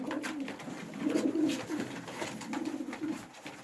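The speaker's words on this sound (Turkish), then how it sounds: "Koydan getirdiğim kuşlar var." Pigeons brought in from the bay coo in soft, rolling phrases, two or three drawn-out calls close by in a quiet loft, with no voices.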